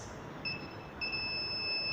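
A thin, high electronic buzzer tone in a simple electrical circuit sounds in short bursts and then holds steady, fairly quiet against a low background hiss.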